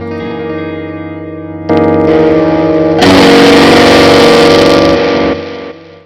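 Guitar tone through a Belle Epoch preamp pedal cranked to full gain, a sustained note swelling louder, then exploding into a dense, buzzy distorted roar before cutting off.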